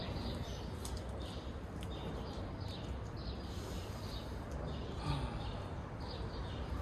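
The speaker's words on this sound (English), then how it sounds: "Hope you can hear the birds chirping out." Outdoor ambience in New York City with scattered bird chirps and short calls over a steady hiss of background noise, fairly faint throughout, with no voices.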